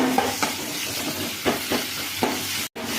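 Onions and tomatoes sautéing in a pan for a chicken dish, producing a dense, steady frying hiss with a few spaced stirring scrapes, loud and near, and a short gap just before the end.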